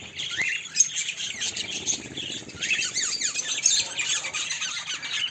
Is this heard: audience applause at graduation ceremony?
no